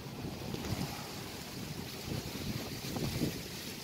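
Steady wind rushing and buffeting across the microphone outdoors at a sunny marina with yachts and fishing boats, with a low rumble of water and boats underneath, continuous and fairly loud throughout.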